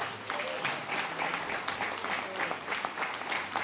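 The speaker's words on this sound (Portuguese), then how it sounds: "Você não vai aplaudir a Deus pela vida de Eliseu?" A church congregation applauds throughout, a dense, even wash of many hands clapping with no pauses, close and moderately loud.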